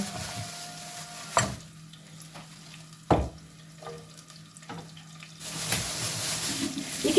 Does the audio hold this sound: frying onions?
yes